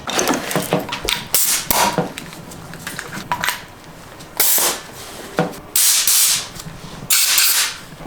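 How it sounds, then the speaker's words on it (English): Bursts of walnut-media blasting scour carbon buildup off the intake valves of a BMW N54 cylinder head, loud intermittent hissing blasts of a few seconds each with short gaps between them. "So let's get to blasting the Walnut, blasting the head or the intake valves."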